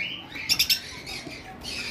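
A breeding pair of caged birds on a bird farm give three quick, sharp squawking calls in a row, close by, with faint background rustle before and after.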